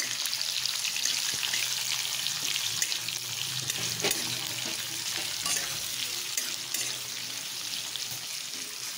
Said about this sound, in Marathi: आता आपले आपण कांदा टाकून घेऊया। कांदा छान आपण असा गुलाबी होईपर्यंत थोडासा परतूया।